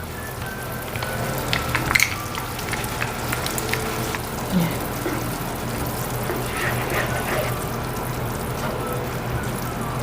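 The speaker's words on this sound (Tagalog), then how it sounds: "Tapos, maglagay tayo ng tomato sauce." Tomato sauce is poured into chili con carne cooking in a pan for hotdog sandwiches, giving a steady bubbling sizzle with a few louder splashes early on and no talking.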